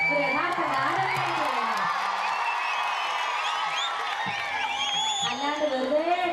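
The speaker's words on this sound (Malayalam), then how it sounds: "എന്ത് ഒച്ചപ്പാടും ബഹളവും കയ്യടിയും കൂട്ടുവിളിയും" A dense concert crowd at a stage show cheers, shouts and applauds continuously, loud and close, with excited voices and whoops layered over steady clapping.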